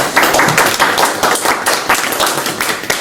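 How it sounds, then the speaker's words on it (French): Clapping from an audience at an academic talk, a steady stream of close, fairly loud handclaps lasting throughout without voices. "on va commencer par t'applaudir"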